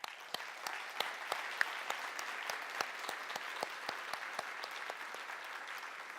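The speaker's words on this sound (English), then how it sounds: "So round of applause for you guys." A conference audience applauds after a talk on unconscious bias: continuous, even clapping from many hands at moderate distance, with sharp individual claps standing out, lasting several seconds without speech.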